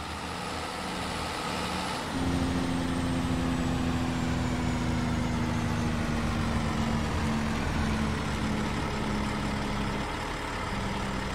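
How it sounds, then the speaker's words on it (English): A truck's engine brake in Farming Simulator 22 kicks in after about two seconds, a loud, steady low rumble with a droning tone that holds for the rest of the stretch, heard close and alone. "The engine brake sounds awesome on this truck."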